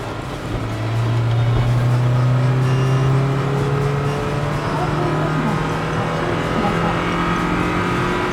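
A Toyota TownAce-based camper van accelerates onto a highway in rain, its engine note rising steadily over road and tire roar from inside the cabin, loud and continuous.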